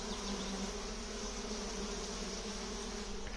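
Bees buzz continuously around a hive, a dense, steady hum close by with no voices.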